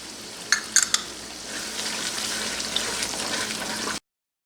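Tomato onion masala with spices being stirred in a frying pan for fish curry, a few sharp clinks of the spoon at the start and then a steady sizzling hiss that ends abruptly.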